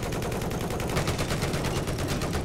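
Continuous, dense gunfire fills a Conquest match on Siege of Shanghai in Battlefield 4, loud and steady with overlapping shots and no pauses.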